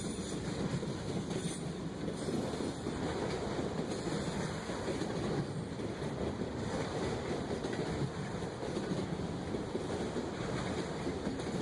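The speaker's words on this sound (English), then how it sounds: "I'm quickly greeted by CSX Q205 with a standard cab Dash 8 in the lead" A CSX freight autorack train led by a standard cab Dash 8 diesel locomotive rumbles steadily past with a constant low roar and faint rail clatter, no voices.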